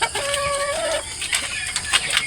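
Pullets and brood hens give a short, clear cluck or squawk near the start, then softer scattered fowl noises over a steady, hissy farmyard background.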